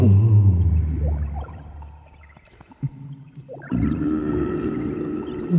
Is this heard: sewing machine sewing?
no